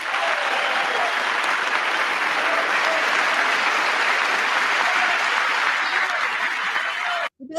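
Sustained applause in the chamber of the US Congress during a presidential speech, a dense, loud roar of many clapping hands that holds steady before cutting off near the end.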